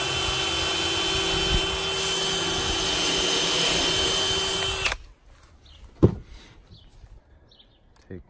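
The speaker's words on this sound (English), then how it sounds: "So I just take my drill, pilot a hole right about in the center." A loud, steady power drill whine boring a pilot hole into wood runs for about five seconds, then cuts off abruptly, followed by a single clunk and quiet room noise.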